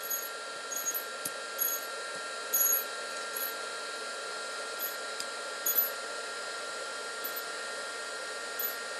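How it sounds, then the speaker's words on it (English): A heat gun blows steadily while drying jewelry pieces, a constant airy whine with faint clicks and light taps scattered across it, moderately quiet and with no talk. "I'm gonna take my heat gun, and at the same time as I'm blotting my pieces, I'm going to be drying them"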